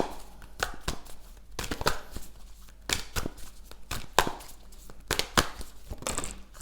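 Tarot cards are shuffled and riffled in quick, crisp bursts of flicking and slapping, close by, with short pauses between.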